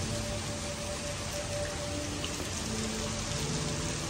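Steady rain falling at a Sentosa Island beach in Singapore, an even continuous hiss of drops with no voices, consistent from start to finish.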